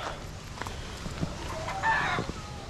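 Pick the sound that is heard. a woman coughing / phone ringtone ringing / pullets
pullets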